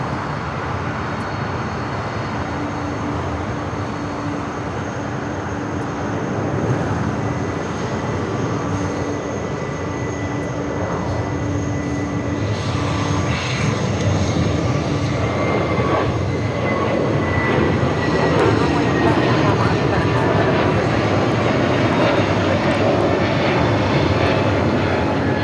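Boeing 747 with Pratt & Whitney 4000 engines at LAX, a loud sustained jet engine roar that builds slightly over time, heard from outside at the airfield with steady broadband rushing noise.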